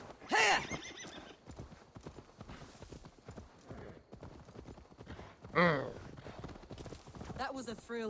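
A horse in the video game Assassin's Creed Valhalla clip-clops in rapid rhythmic hoofbeats and gives two loud whinnies, close and clear, mixed with in-game talk.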